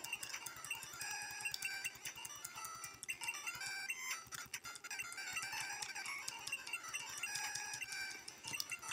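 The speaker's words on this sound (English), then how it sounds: "That was my phone, apologies." A phone alert plays over a Pokemon game soundtrack, a busy, repeating electronic jingle of chirpy notes that runs continuously at moderate volume with no talking.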